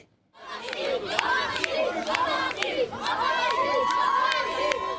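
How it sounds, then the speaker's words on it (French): A large crowd gathered for the inauguration of a renovated municipal cinema shouts and calls out to actor Omar Sy, a loud, continuous roar of many voices with sharp cries and whistles rising above it throughout. "Omar Sy est ému devant cette foule qui l'appelle."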